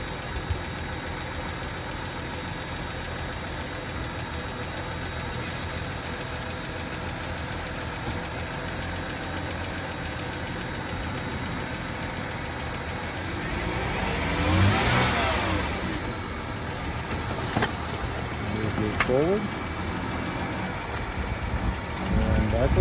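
A car engine, just jump-started, runs steadily at idle for a long stretch, with a louder burst of rumbling and clatter partway through, then settles again.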